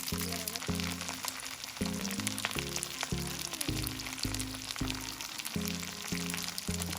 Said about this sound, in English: I'll pan fry each side until it gets just slightly crispier